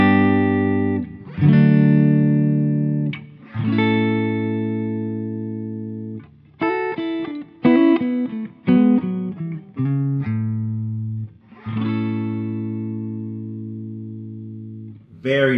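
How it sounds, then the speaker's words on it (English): Clean electric guitar played on the neck pickup through a clean amp channel, with sustained chords and a quicker melodic run, ringing notes separated by short gaps, loud and close with no talking. "here is, let's say, the neck pickup clean"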